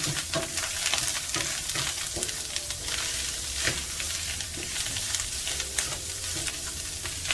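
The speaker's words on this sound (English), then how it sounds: "while stirring this in, I'm going to be adding Mrs. Dash salt-free taco seasoning" Meatless ground crumbles sizzle loudly in a pan while taco seasoning is stirred in, a dense, constant frying hiss broken by scraping and clicking spatula strokes close by, no talk.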